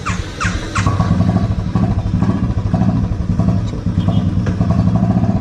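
A motorcycle engine idles and runs close by, a loud, steady rumbling throb with a few brief revs as the bike sets off for a ride.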